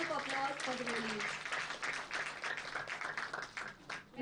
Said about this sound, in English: please give him a big round of applause for the release.